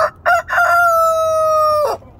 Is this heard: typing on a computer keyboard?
no